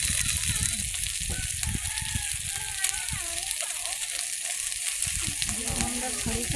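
Onions sizzle steadily in a pan over a wood-fired clay stove, a constant broadband hiss filling the whole stretch while someone talks over the cooking.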